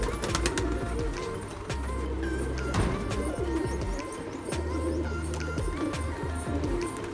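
Pigeons cooing close by, repeated low throaty coos in rolling phrases with occasional chirps and background clatter, no talking.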